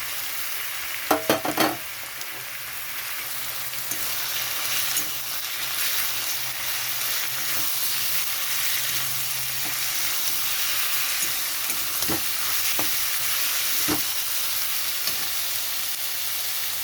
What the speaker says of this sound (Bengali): এখানে দিয়ে দিচ্ছি চিকেন ছোটো করে কেটে নুন হলুদ মেখে রেখেছিলাম।